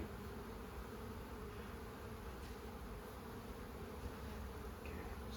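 Honey bees buzz at an open hive during a hive split, a dense, steady drone of many wings filling the air close by, even and unbroken.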